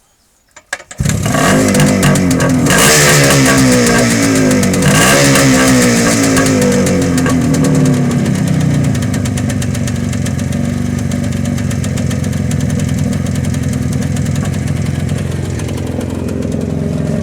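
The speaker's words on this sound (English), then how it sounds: "Let's see if I can just get it going to show that it does actually run with the choke off." A Suzuki T500 two-stroke twin motorcycle starts with a couple of kicks and a catch, then runs loud and close without choke, revving briefly before settling into a steady, rattly, buzzing idle, with a carburettor fault on the left cylinder.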